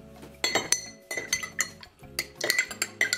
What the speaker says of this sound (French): Avant de mettre au four, il faut mélanger avec une cuillère.